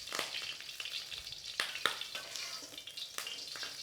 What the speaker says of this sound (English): I want to fry those mushrooms and really sear the mushrooms, get them nice and sealed through